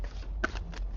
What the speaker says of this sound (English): There's that Vegas style shuffling.